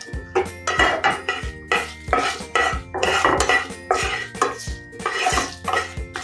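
Green chillies roasting in a pan over low gas for sesame chutney, with repeated metal scraping and clattering of a utensil against the pan in steady, close strokes.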